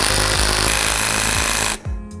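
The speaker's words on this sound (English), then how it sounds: "So now I'm just tightening the nut on top back down" Impact gun tightening the top strut nut on a Honda CR-V RD1 rear suspension, a loud rapid hammering rattle that runs steadily before cutting off sharply, then a short fading whir.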